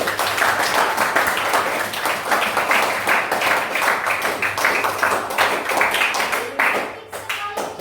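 A classroom group claps together in sustained, dense applause that holds steady for several seconds before thinning out near the end.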